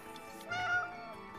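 A cartoonish cat in the video game It Takes Two lets out one drawn-out meow mid-clip, rising over a steady game soundtrack.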